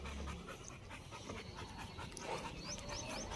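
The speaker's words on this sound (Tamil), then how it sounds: "நீ என்ன பண்ணிட்டேன்னு உனக்கு மூச்சு வாங்குது" A dog pants rapidly and softly after exercise, a steady, faint, close breathing rhythm with small whimpers, heard alone without talk.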